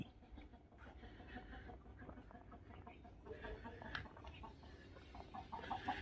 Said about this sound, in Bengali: তো এখানে মুরগি চাষ হচ্ছে।